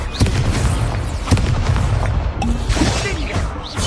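Confringo blasting-spell explosions in Hogwarts Legacy, loud booming blasts with crackling impacts coming one after another in a hectic magic fight, with voices shouting during the action.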